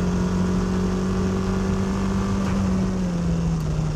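A car engine drones loud and steady at close range during a drifting lesson, holding one pitch that sags slightly toward the end, with no voices.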